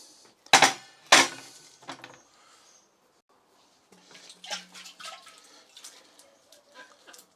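A glass jar holding anise seeds is rinsed with water while making homemade honey raki. Two loud, close knocks of the jar come first, then softer splashing and trickling water with small clinks.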